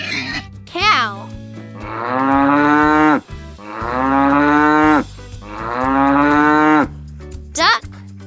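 A cow moos three long, loud, drawn-out times, each low bellow swelling and fading, with brief higher cries before and after; the mooing is close and dominates the clip.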